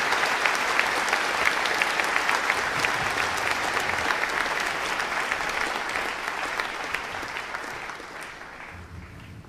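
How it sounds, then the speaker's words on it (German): German-speaking lecture audience applauding, a dense, steady round of clapping that gradually thins and fades toward the close. "Dankeschön für den Applaus"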